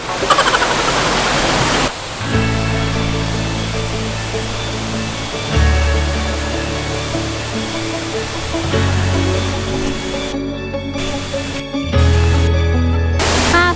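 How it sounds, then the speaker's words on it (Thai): Mae Kampong waterfall in a small mountain village in Thailand gives a steady, loud broadband rush of falling water, constant throughout with no voices. "เราก็จะจบที่น้ำตกแม่กำปองนี้นะคะ"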